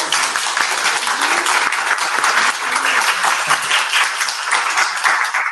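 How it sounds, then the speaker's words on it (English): An audience at a walking and urban-design conference session gives its speakers a big round of applause, loud and dense clapping from many hands that holds steady for the whole stretch. "Just a big round of applause to our speakers."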